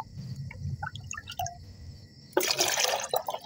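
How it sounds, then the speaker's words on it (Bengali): Plain water poured into a container to dilute a liquid plant feed for brinjal plants, with a few drips first and then a sudden steady splashing pour, close and alone. "সমপরিমাণ সাধারণ জল মিশিয়ে নেব।"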